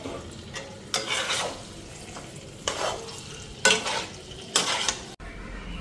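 A spatula scrapes and stirs food in a cooking pot with garam masala and ghee, several bursts of scraping over a low sizzle, ending with a sudden stop.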